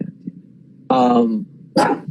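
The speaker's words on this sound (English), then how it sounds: "Will you stop barking, please?" A dog barks twice in short, loud bursts close by, the second sharper than the first, with quiet room noise between them.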